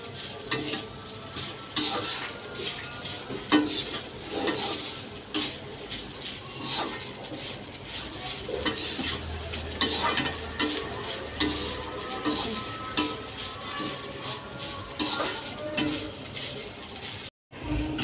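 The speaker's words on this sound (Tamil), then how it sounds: "தேங்காய் போட்டு சும்மா ஒரு 2 நிமிஷம் வதக்கி விடுங்க" Grated coconut sautéed in a pan for chicken kuzhambu, with steady sizzling and a constant scrape and clink of a spoon stirring, close and continuous, pausing briefly near the end.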